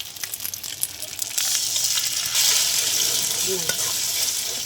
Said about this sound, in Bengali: ডিম ভেঙে আমি ডিমটা ঝুড়ি ভাজা করে নেবো